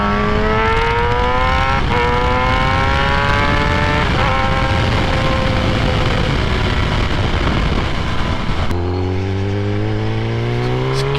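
A 2017 Kawasaki ZX10R sport bike engine revs hard and loud, climbing through repeated rising pitches with short gear-change dips, then drops to a lower steady drone near the end, with no talking.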